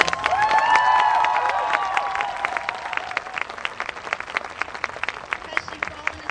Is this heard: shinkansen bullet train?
no